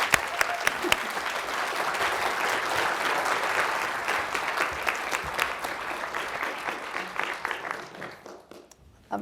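Audience applause welcoming a professor to a lecture on personalised medicine, a steady dense wave of clapping from a hall crowd that holds strong for about eight seconds before fading out.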